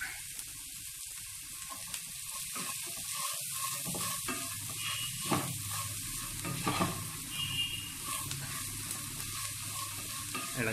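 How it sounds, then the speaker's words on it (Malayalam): Chopped cabbage, beans and other vegetables fry and sizzle steadily in a pan for upma while being stirred, with repeated scraping strokes running through the whole stretch, close and moderately loud with no talk. "ഇളക്കി യോജിപ്പിക്കുക."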